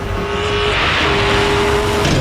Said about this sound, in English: the same howling, mechanical, haunting melody flowing out the exhaust pipes